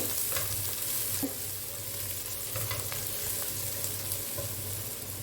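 Onions softening in a pan for spicy Arabic sheri fish biryani, a steady close sizzle with a few scraping stirs of the spoon, alone with no talking.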